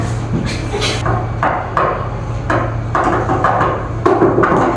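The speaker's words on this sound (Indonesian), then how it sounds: "Yelkis mengetuk-ngetuk meja di sebelah sana." Repeated knocks on a wooden classroom table during a primary-school sound experiment, sharp irregular raps spaced about half a second apart, fairly close, over a steady low hum with no clear talk.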